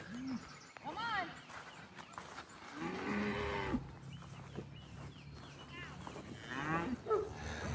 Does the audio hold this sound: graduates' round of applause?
no